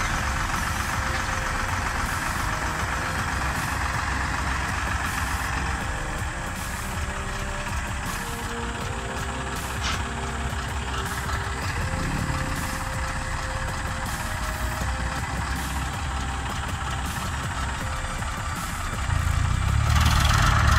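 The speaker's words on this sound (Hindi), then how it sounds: "किसान भैया सचिन जी आए हैं जो ऐसा ट्रैक्टर को ड्राइव कर रहे हैं" A 35 HP tractor's engine runs steadily close by for the whole stretch, a continuous diesel rumble that grows slightly louder near the end.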